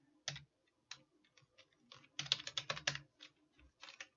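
Typing on a computer keyboard while booking details are entered, with scattered individual key clicks followed by a quick run of keystrokes, close and crisp against a quiet background.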